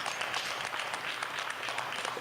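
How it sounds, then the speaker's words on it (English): A Renegade Wrestling crowd applauding wrestler Cassie King, a dense, steady wash of clapping close and loud throughout. "Cassie King getting the adoration of the Renegade Wrestling crowd"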